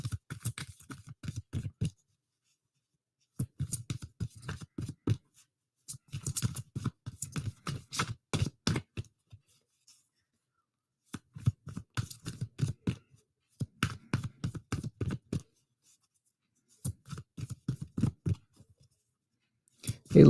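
Tarot cards being shuffled by hand, crisp riffling bursts in repeated bouts of one to two seconds separated by short silences, close and clear with no talking.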